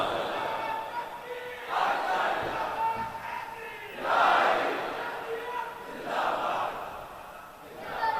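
A sermon audience shouting religious slogans in unison, in repeated swelling bursts of crowd chanting at a moderate distance.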